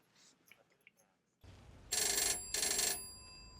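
Payphone bell ringing in a Stranger Things season 4 scene, two loud sustained electric rings after a hushed stretch, heard clearly and close with faint whispery voices before.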